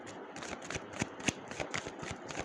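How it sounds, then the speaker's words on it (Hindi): Tarot cards shuffled by hand in quick riffling bursts, a run of soft papery flicks and slaps close by with no voices. "Future, this is my last shuffle."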